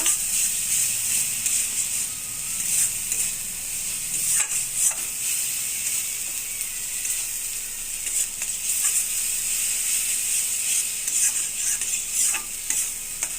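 Katla fish frying in a pan with salt added, a steady close sizzle and hiss with occasional stirring clicks and scrapes of a utensil throughout, no voices.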